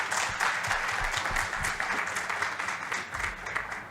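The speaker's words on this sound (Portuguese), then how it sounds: "Salva de palmas para o Renato." A room full of people applauds a guest from the American Consulate at an air medical services conference, dense steady clapping filling the whole stretch with no voices over it.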